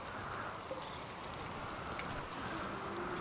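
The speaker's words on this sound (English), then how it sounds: "Rainy thunderstorm." Steady rain hiss from a rainy thunderstorm in the video game RimWorld, a soft, even wash of falling drops with no distinct thunder crack, faint and continuous.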